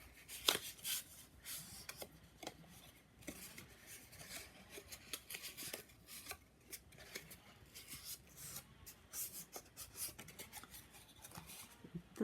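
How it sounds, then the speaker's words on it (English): Die-cut crafts cardstock pieces being creased along fold lines, a series of faint scraping, rubbing and pressing strokes with soft paper crackles, close and quiet with no voices. "I am going to crease along the lines"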